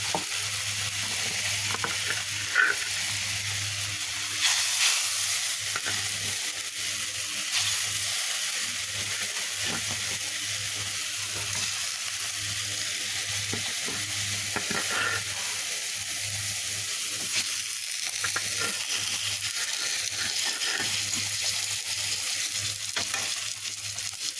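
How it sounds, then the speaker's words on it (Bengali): A pan of rohu fish curry simmers on a home stove, giving a steady bubbling sizzle and hiss that runs unbroken for the whole stretch, with light stirring clicks and no talk. "গরম পানি দিয়ে দিলাম ফুটতে সময় লাগবে না ফুটতে লেগে গেছে আমি এখন মাছগুলো দিয়ে দেবো"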